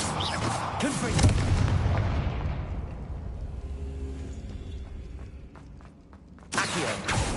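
A Confringo spell blast in the video game Hogwarts Legacy bursts loudly, then fades into a long rumbling decay, and a second sharp burst lands near the end.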